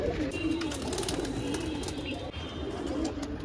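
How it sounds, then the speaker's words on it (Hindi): A Siraji pigeon coos in low repeated throaty phrases amid outdoor bird chatter and background noise, fairly close. "कबूतर नीचे आ रहा है"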